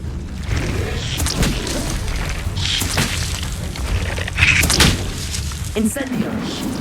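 Fire spell cast in the Hogwarts Legacy video game, a burst of booming, crackling impacts layered over steady game ambience and music, with a few sharper flaring hits toward the middle.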